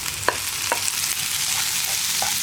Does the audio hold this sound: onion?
yes